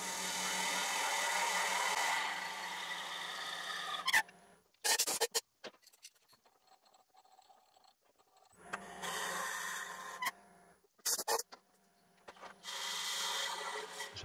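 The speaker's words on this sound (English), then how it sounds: "So just drilling it out, always just drill in an inch or so and retract it" Drilling into wood with a Forstner bit on a lathe, a grinding, rasping whir in bursts with pauses and clunks between as the bit is pulled out.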